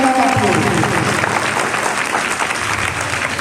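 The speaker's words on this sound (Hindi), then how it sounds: "बहुत ही जोरदार तालियों से हमारे मुख्य अतिथि के रूप में श्री जगदीश पटेल जी का स्वागत करेंगे" Schoolchildren give loud, sustained applause to welcome the chief guest at an Independence Day celebration, a thick wash of many hands clapping throughout with a voice faintly audible at the start.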